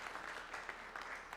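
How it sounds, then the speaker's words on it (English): A school audience at a coffee morning with the principal claps in brief, faint applause, a soft distant patter with no voices. "give Charlie a round of applause"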